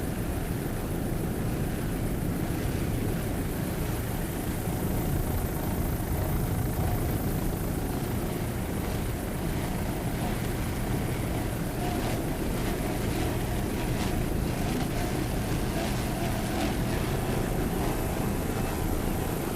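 Team Dunze offshore racing powerboat roaring through the pack at the 2002 Savannah Grand Prix, a loud continuous engine drone mixed with water rush, steady throughout.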